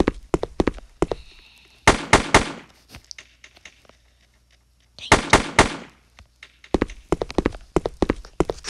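Pistol gunfire in a blocky army shooting video game sounds as sharp, loud cracks in quick clusters. Rapid bursts are separated by brief quiet gaps, with scattered single shots in between.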